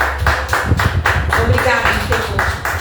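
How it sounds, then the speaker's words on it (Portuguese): A church congregation claps together in a steady rhythmic beat, many hands close by, with voices mixed in. "Um aplauso a Jesus."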